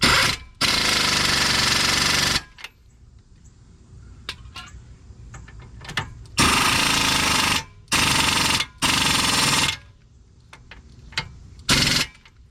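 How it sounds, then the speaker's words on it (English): A pneumatic impact wrench runs down the lug nuts on a 2011 Nissan Altima wheel during a hub bearing replacement. It fires in loud, close bursts of rapid hammering with short gaps between them. "I'm going to crank them down real quick with the impact and tighten by hand."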